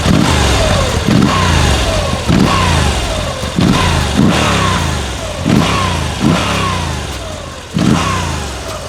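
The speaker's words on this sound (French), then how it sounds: "est un moteur à 90 en V, donc comme les 2 chevaux pour ceux qui ont connu. Donc c'est un bruit particulier" A Moto Guzzi V85TT with its 853 cc 90-degree V-twin engine is revved repeatedly, about seven loud throttle blips that rise and fall over a steady idle, close up with no talk.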